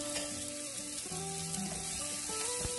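Leftover pork adobo sautéing in a pan for sautéed mung beans, giving a soft, steady sizzle with faint clinks and a low thump near the end, quiet and close, with no voices.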